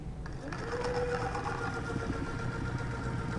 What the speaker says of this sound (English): Now I'm turning the motor on.